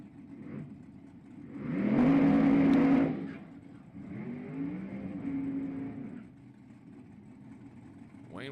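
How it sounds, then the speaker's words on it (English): Drag racing car at Houston Raceway Park doing a brief, abbreviated burnout: a loud engine rev swells and fades, followed by a steadier mid-pitched engine drone that tapers off, with crowd and track ambience underneath. "Wayne with an abbreviated burnout"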